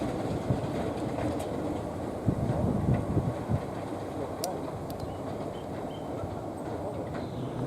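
A train passes through North Weald station on the Epping Ongar heritage railway: a steady, close low rumble with a few faint clanks, wind buffeting the microphone throughout and a slight swell in the middle.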